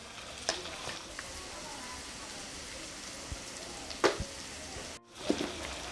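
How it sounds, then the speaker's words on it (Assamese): Tomatoes with green chilli, turmeric and salt frying in a pan over a medium-low flame, a steady soft sizzle with a few scattered stirring clicks and pops. "এতিয়া বিলাহীখিনি একেবাৰে কোমল হৈ যোৱালৈকে মানে 3-4 মিনিটমান সময় মিডিয়াম লো ফ্লেমতে এইখিনি ভাজি ল'ম"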